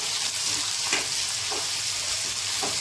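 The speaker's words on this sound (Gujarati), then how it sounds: "હવે ડુંગળી નાખી દઈશું. આપણે આદુ નાખી દઈશું. હવે આપણે થોડુંક હલાવીશું." Onion and ginger fry with green chilli in a pan for a Kathiyawadi aubergine dish, giving a steady loud sizzle throughout. A few soft scraping stirs break through it, and no one speaks.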